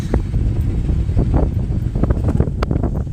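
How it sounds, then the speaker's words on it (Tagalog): Strong wind roars steadily across the microphone, buffeting it with loud, low rumbling gusts throughout. "Grabe hangin."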